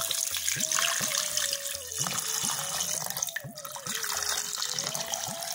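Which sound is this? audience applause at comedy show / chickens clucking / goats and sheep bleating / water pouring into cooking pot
water pouring into cooking pot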